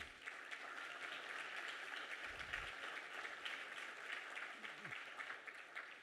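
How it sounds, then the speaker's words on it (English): An audience at a West Virginia governor's revenue announcement applauds continuously, a dense, steady clapping that sounds somewhat distant and fills the whole stretch. "And you should really clap now."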